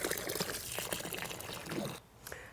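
Water being poured into potting soil in a container while a trowel stirs it, a continuous close gurgling pour and trickle that cuts off sharply near the end, leaving quiet.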